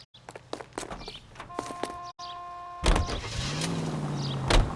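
A car in a video game being entered and driven away: a few footsteps and a door clunk, a brief pause, then the engine starts and revs steadily as the vehicle pulls off, fairly close.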